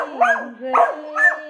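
A corgi howls and yips in three rising, wavering bursts, close and loud, like it is singing along to singing.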